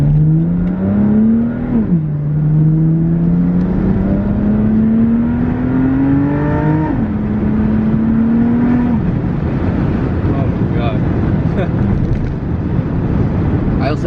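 Engine of a BMW F80 M3 Competition running a Bootmod3 stage 2 tune, catless downpipes, equal-length mid pipe and GTS trans flash, revving hard through rising pulls with sharp upshifts, loud and close, with faint talk under it.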